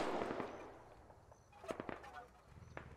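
Distant gunshots from the video game Squad pop in scattered bursts, a few sharp cracks spread across the moment over a low ambient rumble, with no talk over them.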